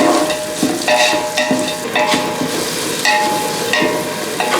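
Thinly sliced onions frying with ginger and garlic in a pan make a loud, continuous sizzle, with repeated rhythmic scraping strokes of a spoon stirring them through.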